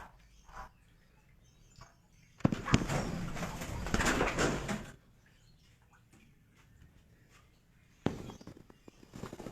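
Birds in a breeding aviary cage planted with greenery, pigeon- or dove-like cooing and calls coming in bursts, with a louder stretch midway and light rustling between.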